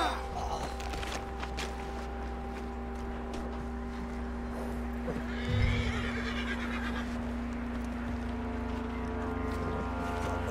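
A horse in Red Dead Redemption 2 gives a single clear whinny midway through, set against a steady low engine-like drone and faint game ambience.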